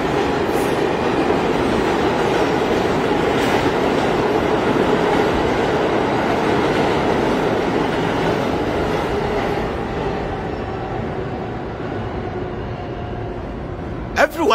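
Train running through a station in Ghana, a steady loud rumble of rail cars with rolling wheel noise for the whole stretch, easing slightly toward the end, with voices talking over it.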